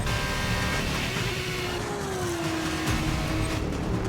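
Formula 2 race cars in the F1 2019 racing game, a steady loud engine drone with a rising and falling gear whine as cars hold close together, no voices over it.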